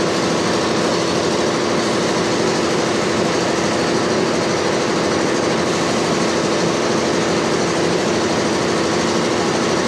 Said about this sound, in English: So Dedek brought this ginormous compressor that he bought out in Florida and basically trucked